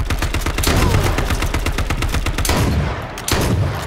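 Rapid automatic gunfire from the H1Z1 Battle Royale video game, a loud dense burst of rattling shots that continues for several seconds before a short pause and another shot.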